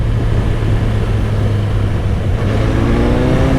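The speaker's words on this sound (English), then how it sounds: "if you try and give it too much throttle without enough revs," A 1985 Suzuki GSX-R750 motorcycle engine pulling under throttle at low revs, a loud steady drone close to the rider with wind noise, the pitch beginning to rise toward the end.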